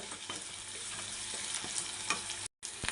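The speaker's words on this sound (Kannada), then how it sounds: "ಈರುಳ್ಳಿ ಹಾಕೋತಾ ಇದ್ದೀನಿ ಫ್ರೆಂಡ್ಸ್ ಇವಾಗ ನಾನು ರುಚಿಗೆ ತಕ್ಕಷ್ಟು ಉಪ್ಪು ಹಾಕೋತಾ ಇದ್ದೀನಿ ಇದೊಂದು ಸ್ವಲ್ಪ ಫ್ರೈ ಆಗಲಿ" Onions with salt frying in a pan for a vegetable sabzi, giving a dense continuous sizzle and crackle up close, with faint stirring scrapes and a brief dropout near the end, no voices.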